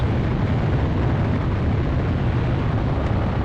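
Bombing in the Ace Combat Zero city raid, heard as a steady, dense roar of continuous explosions and rumble, loud throughout with no distinct individual blasts standing out.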